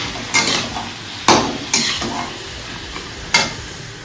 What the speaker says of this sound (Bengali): একটুখানি ভালো করে নাড়াচাড়া করে নিয়ে এর মধ্যে জল ঢেলে দেবো